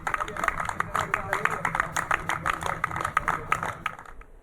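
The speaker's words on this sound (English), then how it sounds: "as patients are discharged, the staff there, personnel are clapping and saying goodbye" Hospital staff clapping steadily as COVID patients are discharged, a rapid rhythmic applause that runs beneath a voice talking.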